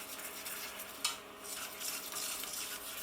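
A roux of gram flour cooking in a pan is stirred continuously, giving a soft, steady scraping hiss with a faint sizzle and one brief sharper scrape, close by and without talk.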